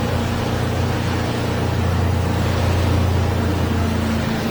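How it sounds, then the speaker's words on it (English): A 2023 Stabicraft 2050 Supercab motorboat with a 2023 Yamaha F150 outboard drones loudly and steadily while planing over rushing water, holding one constant pitch throughout with no voices. "Now to plane the boat"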